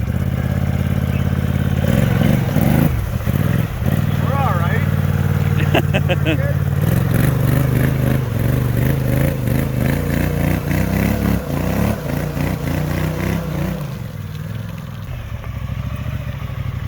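A 2021 Polaris Sportsman 850 ATV engine fitted with a snorkel runs and revs unevenly with clattering and splashing sounds, while someone speaks briefly over it.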